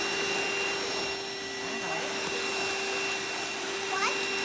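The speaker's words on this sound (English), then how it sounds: "We're about to test the VacLife cordless vacuum cleaner." A VacLife cordless handheld vacuum cleaner runs steadily with a thin whine and a constant airy hiss, fairly quiet, while a cat meows faintly in the background.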